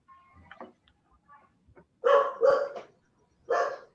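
A dog barks three times, loud and close, in short, sharp woofs spaced about a second apart, after a stretch of faint background sounds.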